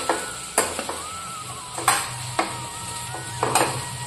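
Okra and potato curry sizzles steadily in a pan, with a spoon scraping and clinking against the metal in several sharp bursts as it is stirred.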